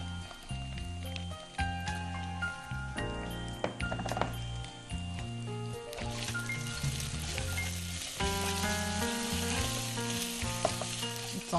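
Ginger garlic paste frying in a pan, a continuous dense sizzle with a stirring scrape running the whole time, close and fairly loud, no voices.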